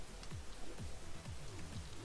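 Steady rain falls in the Minecraft video game world, a continuous soft hiss that fills the whole stretch, with faint low tones sweeping beneath it.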